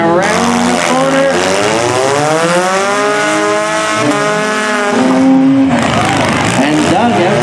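Demolition derby cars pull away at the start of a figure 8 heat, engines revving loudly and steadily with a tire squeal near the end, while a voice talks over the din.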